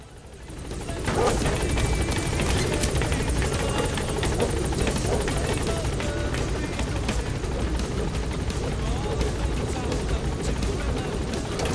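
In the game Metal Gear Solid V: The Phantom Pain, the Pequod helicopter hovers at a landing zone, its loud, steady rotor roar and engine whine filling the whole scene after a brief quieter start, with faint game sounds mixed in.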